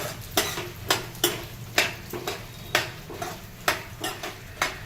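Almonds are stirred in hot ghee in a pan over a medium flame for a Gujarati exotica sweet. A spoon scrapes the pan in a steady rhythm, about twice a second, close and clear over a faint sizzle.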